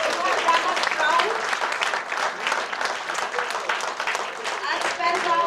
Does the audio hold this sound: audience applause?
yes